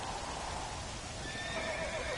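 A horse in the video game Red Dead Redemption whinnies over a steady wash of trotting hooves and ambient noise, the neigh fairly faint within the dense background.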